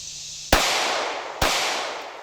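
Glock 17 Gen 5 pistol fired outdoors at a peach target, producing two loud, sharp reports about a second apart, each with a ringing echo tail and no talk.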